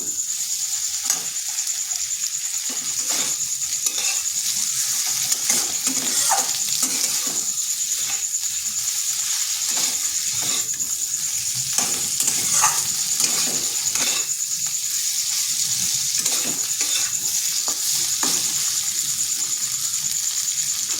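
Okra sizzles steadily in hot oil with spices in a pan, with repeated scraping and stirring strokes of a spoon throughout and no voices.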